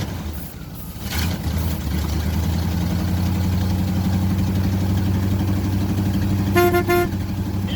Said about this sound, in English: Yeah, horn works.